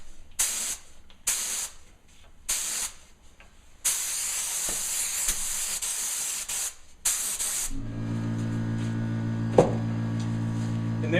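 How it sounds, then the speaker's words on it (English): A spray gun hisses in short repeated bursts, then in one long steady pass, applying finish to the edges of a kitchen cabinet door; a compressor motor hums loudly afterward. "Same thing, spray the edges."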